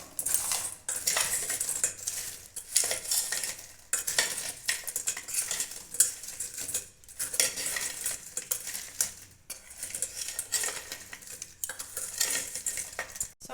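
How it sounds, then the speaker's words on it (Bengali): Potato and gram flour snack mixture being mixed in a bowl, with repeated close clinks and scrapes of a metal spoon against the bowl in an uneven rhythm, with no voices. "এগুলো সব আমি মিশিয়ে নেব সব"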